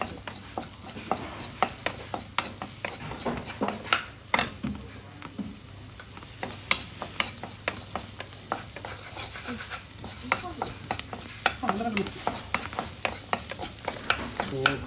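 Food frying in a pan with a continuous sizzle, while a spatula stirs and scrapes against the metal in frequent irregular clicks, close and steady throughout.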